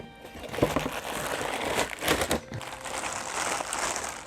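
A boxed Japanese-edition One Piece Luffy figurine is unwrapped close by, with crinkling plastic and cardboard rustles in irregular bursts, a few sharper crackles, and no talking.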